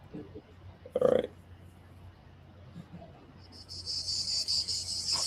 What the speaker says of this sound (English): cicada sounds.